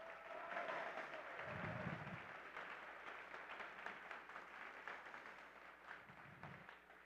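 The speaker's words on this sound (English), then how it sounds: "Teams, give your mentors a round of applause." An audience at a FIRST robotics competition event applauds team mentors, a steady wash of clapping from a large crowd, moderately distant and even throughout, with a few low thumps underneath.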